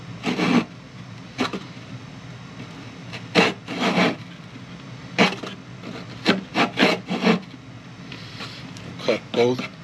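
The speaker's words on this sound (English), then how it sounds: "Now I'm going to take my handsaw and I'm going to cut down to the" A handsaw cuts into the wood of a cigar box guitar body in short bursts of rasping strokes, some clustered and rhythmic, with pauses between passes, close and fairly loud.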